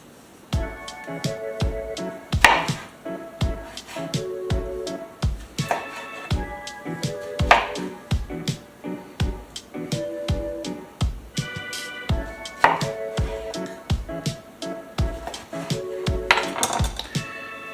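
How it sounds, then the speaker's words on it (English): A knife slices fresh tomatoes on a cutting board for tomato soup, giving a steady run of sharp, close chopping taps with clinking accents and no talking. "I'm gonna slice up these tomatoes"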